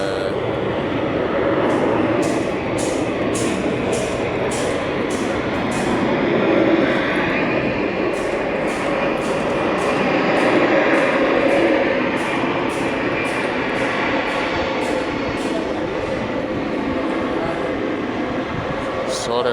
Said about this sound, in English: I am inside the Athens airport, so sorry for the disturbance, the sound from the aeroplane.